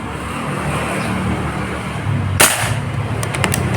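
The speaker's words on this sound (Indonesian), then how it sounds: "Tembakan pertama" A single sharp crack from an air rifle fired at a target, close and brief, cutting through steady road traffic noise with a few faint ticks just after.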